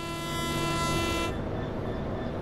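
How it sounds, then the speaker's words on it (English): A train horn sounds in Train Sim World on PC, a loud steady harmonic blast that holds for about 1.3 seconds and then cuts off, leaving a lower rumble underneath. "let's go horn on the PC"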